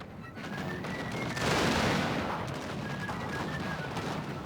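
Massed musket volley in the Total War: Fall of the Samurai strategy game, a dense rolling crackle of many shots that swells in the middle and then settles into scattered firing.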